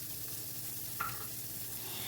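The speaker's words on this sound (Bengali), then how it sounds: "এবারে এর ভেতরে দিয়ে দিচ্ছি একটা পেঁয়াজ কুচি।" Chopped onion and garlic fry in a pan with a steady, quiet sizzle, with a single light clink of a utensil partway through and no voices.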